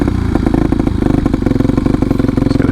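A Sherpa motorcycle engine that has run out of gas sputters loudly and unevenly up close, its rapid uneven firing pulses sounding throughout.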